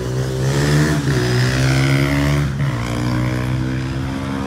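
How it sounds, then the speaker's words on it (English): ATVs and motorbikes rev on a city street during a protest in Providence, a loud, continuous engine roar whose pitch rises and dips as throttles open and close, with no voices. "Now ATVs and motorbikes scattering."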